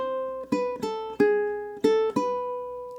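A low G ukulele is fingerpicked through the opening bar of Bach's Bourrée, five clear plucked notes ringing and fading in a steady, lilting rhythm, close and alone.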